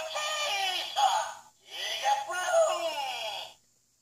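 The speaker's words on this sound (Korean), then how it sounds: "이렇게 가디언즈의 사운드가 울립니다." Electronic sound effect from a Brave Gigant Tyranno King toy from Power Rangers Dino Force, triggered by a button with the cover open: two loud synthesized roaring, voice-like bursts close by, cutting off abruptly.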